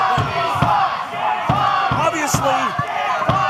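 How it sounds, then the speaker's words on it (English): A pro wrestling crowd at an OVW television show chanting in unison, a loud rhythmic group chant with regular claps or stomps, a commentator talking over it. "the crowd's chanting Tommy sucks here"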